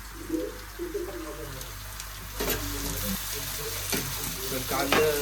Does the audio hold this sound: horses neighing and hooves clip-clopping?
no